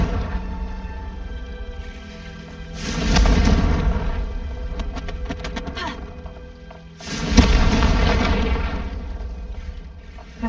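A Confringo fire spell in Hogwarts Legacy bursts twice with loud, rumbling booms several seconds apart, each swelling and then fading over a steady background hum.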